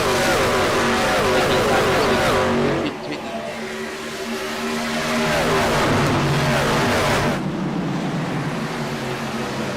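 Racing trucks roar past at Homestead during an iRacing truck series race, a loud, continuous engine drone that rises and shifts in pitch as several vehicles pass, with a brief dip in the middle.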